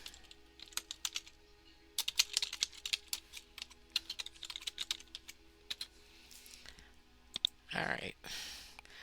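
Close keyboard typing on a computer comes in bursts of quick, light clicks with short pauses, ending in a louder swipe or shuffle near the end; a faint hum sits beneath.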